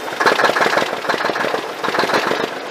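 A straight-piped 855 Cummins diesel in a semi truck runs with a dead miss on one cylinder, giving a loud, close, uneven throbbing rumble with no talking over it.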